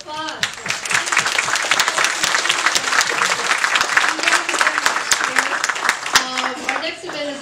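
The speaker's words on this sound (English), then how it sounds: "let's give everyone a round of applause" A crowd applauds steadily, dense clapping filling the room at full volume for several seconds, with a few louder individual claps standing out.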